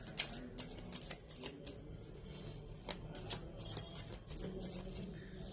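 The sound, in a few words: shuffling cards during a tarot reading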